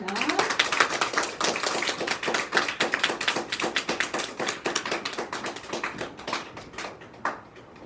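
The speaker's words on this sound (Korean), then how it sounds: "강사님 나오실 때 큰 박수 부탁드립니다" Dense, steady clapping from a church youth retreat congregation welcoming a guest preacher, many hands tapping in a fast irregular patter that thins and fades near the end, with no talk over it.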